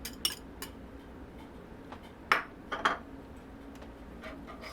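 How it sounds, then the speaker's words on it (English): A utensil stirs freshly grated mild cheddar into scalloped potatoes in a pot with the heat off, giving a few scattered metallic clinks and scrapes against quiet background. "Stir that in there."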